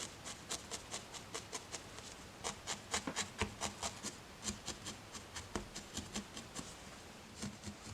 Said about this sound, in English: I'm also going to felt it from the top as well, just making sure that it's nice and securely attached to the body.